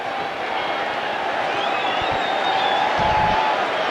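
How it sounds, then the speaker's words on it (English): A 1997 football stadium crowd reacts to a short-yardage play, with a broad, sustained roar from a large distant crowd and a few faint whoops over it. "you'll hear the crowd react to this"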